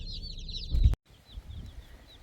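Meat-bird chicks peep and chirp continuously at high pitch while being picked up, with low rustling and handling noise underneath and a brief sharp clunk midway.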